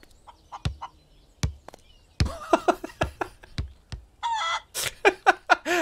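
Chickens cluck in the video game Barn Finders, a string of short sharp clucks and squawks in an uneven rhythm, loud and close, with one longer drawn-out call near the end.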